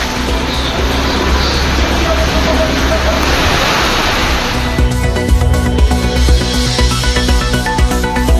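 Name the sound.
rain falling in Ramanathapuram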